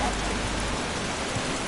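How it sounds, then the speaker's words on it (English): Steady broadband hiss of heavy rain in a Zolder round of a racing video game league, dense and continuous throughout with no distinct drops or thunder standing out. "Dave this rain is getting heavier"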